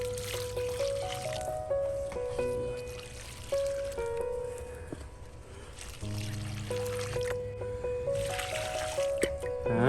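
Slightly acidic water trickles and pours onto newly planted blueberry bushes in a home vegetable garden, with music playing steadily underneath.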